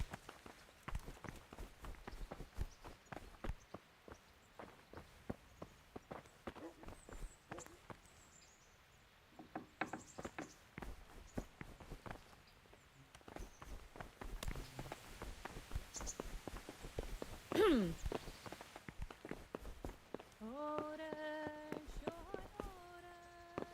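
Horse hooves clip-clopping at a walk in Kingdom Come: Deliverance, a steady series of close, crisp thuds continuing through the whole stretch, with brief voices and a short tonal call near the end.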